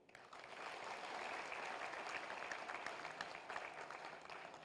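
Audience applause at a Gandhi philosophy conference in Jaipur, Rajasthan: steady, dense clapping from a large seated crowd that swells quickly and holds evenly throughout, fairly distant and moderately loud, with only faint murmurs underneath.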